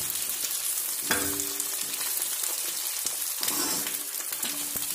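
Potatoes frying in a pan for aloo gobhi, a loud constant sizzle broken by a couple of stirring scrapes and clinks, close up and without talking.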